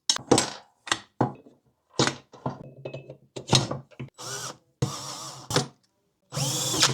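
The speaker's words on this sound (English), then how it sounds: "With the tool, I'm using a drill and bit and locking down each of the pieces." A power drill with a bit driving fasteners into office chair pieces during assembly: short, close bursts of whirring, each stopping and starting again in an uneven rhythm, with no talking.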